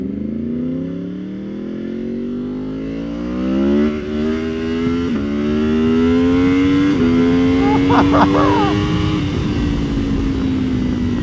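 A Yamaha AMA Superbike racing motorcycle engine climbs steadily through the gears, its pitch rising, dropping briefly at each shift and rising again, loud and close.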